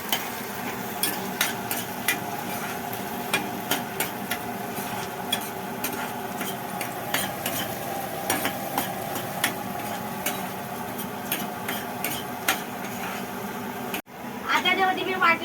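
Spice masala being stirred into browned onions and curry leaves frying for mutton keema, with steady sizzling and repeated scraping clinks of a spoon against the pan, a voice faintly present underneath, and a sharp clatter near the end.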